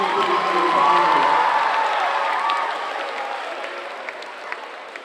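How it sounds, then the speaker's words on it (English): A school audience at an anti-bullying presentation claps and cheers for Jazz Jacobs from Stomp, loud at first with whoops and chatter, then gradually fading to scattered claps. "can we give Jazz Jacobs from Stomp a big round of applause?"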